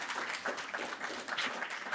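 An audience applauds at a poetry fellows reading, a short burst of dense, steady clapping heard from a moderate distance.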